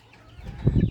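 Chickens in a hot, open-ventilated barn give a short burst of close, fairly loud clucking in the second half, with quiet barn ambience before it.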